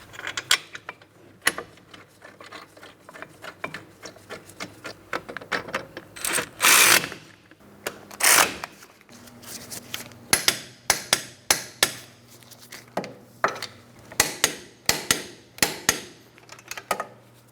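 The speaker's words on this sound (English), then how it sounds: "After you start in each of the 2, snug them up and then torque them to 133 foot-pounds" Bolts on the caliper bracket of a 2004-2008 Pontiac Grand Prix 3.8L V6 being snugged and torqued: close, sharp metallic clicks and two brief ratcheting bursts, spaced irregularly with no talking.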